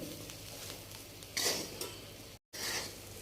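Okra (bhindi) with spices being stirred in a pan on the stove, a soft scraping and sizzling texture with a brief louder stir burst midway and a short drop-out before stirring resumes; no talking.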